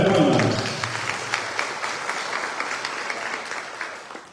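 Applause from an audience at an academic year opening ceremony, a steady crowd clapping that starts loud and slowly tapers over a few seconds, with scattered sharper claps throughout.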